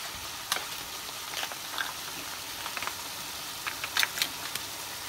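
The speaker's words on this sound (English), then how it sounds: "cover the pan with the lid and simmer until the meat is fully cooked" Butter chicken meat sizzles and simmers in a pan on reduced heat, a steady soft crackle with scattered brighter pops and spits, close and moderately quiet with no talking.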